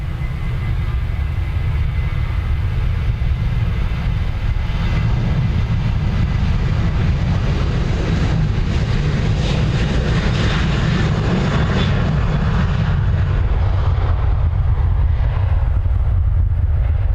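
Aircraft Shamrock 119 departing Dublin Airport, a loud continuous engine roar that holds steady throughout, with deep low rumble and broadband hiss swelling slightly toward the middle.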